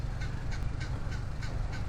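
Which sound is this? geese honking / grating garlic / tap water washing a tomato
geese honking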